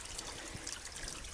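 Water from a steep mountainside water source on the Appalachian Trail trickles in a steady, faint wash with no voices over it.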